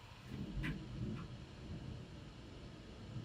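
Distant thunder rolls as a faint, low rumble, barely above the quiet indoor room background.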